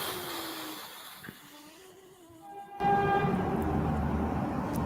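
A car horn honks loudly and suddenly for a few seconds, cutting in over a quiet indoor room tone, sustained and nearby with a steady blaring tone.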